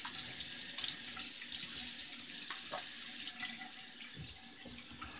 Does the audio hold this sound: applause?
no